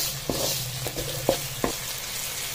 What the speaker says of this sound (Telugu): దీన్ని బాగా మిక్స్ చేసుకుందాం